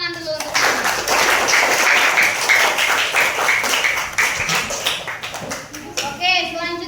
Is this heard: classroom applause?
yes